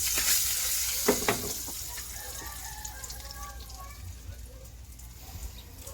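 Chopped onion and garlic frying in a pan for pork adobo, a steady soft sizzle with a few clicks of stirring, moderately close, while a voice talks quietly over it.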